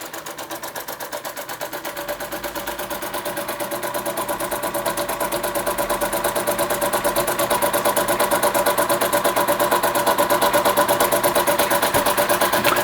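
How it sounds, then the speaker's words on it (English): An Empco B-43 model steam engine runs steadily for the whole stretch, a fast, even mechanical chuffing and clatter that grows slightly louder as it goes, with no talking. "So the Empco B-43 finally running after all this time."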